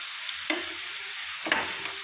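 Onion and tomato frying in a pan for a dal curry, a steady soft sizzle with two sharp spoon scrapes against the pan about a second apart.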